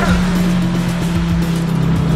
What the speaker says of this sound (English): What do you think of the engine? It's turbocharged now.